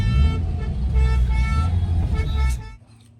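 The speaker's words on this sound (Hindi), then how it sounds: "सब हॉर्न पे हॉर्न बज रहे हैं, कोई निकलने नहीं दे रहा किसी को।" Car horns honking in a jammed road at night, several overlapping sustained toots and blares from vehicles close by, loud and continuous before cutting off near the end.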